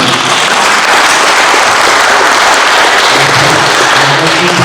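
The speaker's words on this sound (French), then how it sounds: "il s'agit de Eugène Réguidel, qu'on peut applaudir." At a public meeting in a small theatre in Auray, an audience claps loudly and densely, a continuous close rattle of many hands that stays at full strength throughout.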